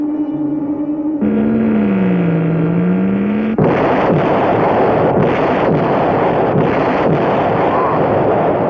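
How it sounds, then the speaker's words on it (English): A cartoon space sound effect of a light ray blasting an asteroid: a wavering electronic hum gives way to a loud, noisy roaring blast with repeated crackling bursts. "The ray completely powdered that asteroid."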